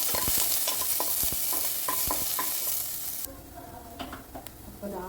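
Onions with a little salt fry in a pan, sizzling steadily while a utensil scrapes and stirs in repeated strokes; the sizzle drops noticeably quieter partway through as stirring continues.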